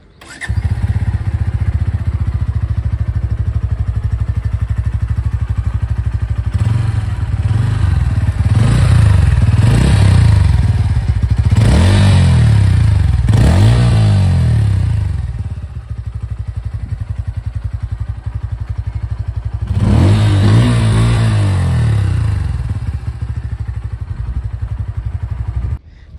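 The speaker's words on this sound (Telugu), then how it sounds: "ఇప్పుడైతే ఈ బైక్ని స్టార్ట్ చేసి సౌండ్ బీట్ ఎలా ఉందో చూద్దాం." Bajaj Pulsar N150 motorcycle started up and idling close by, with several sharp throttle revs rising and falling in bursts, then settling back to a steady idle before one more rev; no talking.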